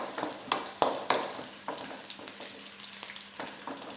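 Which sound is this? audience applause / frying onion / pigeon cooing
frying onion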